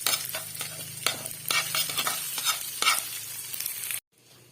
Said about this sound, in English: Then we stir it.